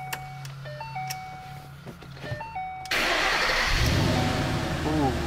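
A 2013 Ford Mustang GT with a 6-speed manual fires up from quiet: starter crank, then the V8 catches into a loud, steady, rumbling idle that carries on to the end, close by.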